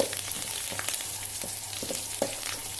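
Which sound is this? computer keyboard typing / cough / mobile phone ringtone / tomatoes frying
tomatoes frying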